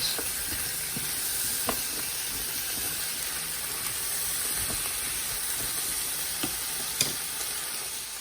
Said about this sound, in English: I've given the vegetables about 10 minutes just sauteing in the pan